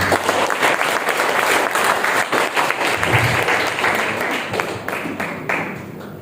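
Sustained group applause from around thirty participants at a trainers' workshop ice-breaking session, dense and steady clapping that fades slightly toward the end.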